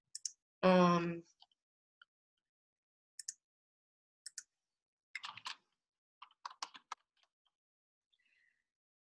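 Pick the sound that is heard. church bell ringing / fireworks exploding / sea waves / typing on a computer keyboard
typing on a computer keyboard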